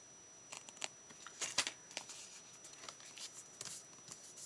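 Scissors trimming the edges of a paper journal pocket, a series of faint, close, crisp snips and light paper rustles in a quiet room, with no talking.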